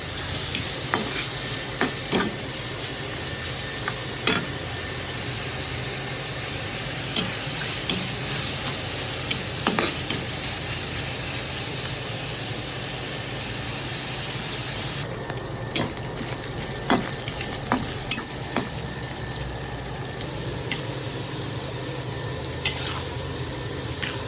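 Pancit bihon rice noodles with pancit bato are stirred in a pot of boiling water, a continuous bubbling hiss broken by regular scraping knocks of the utensil, close and fairly loud with no talk.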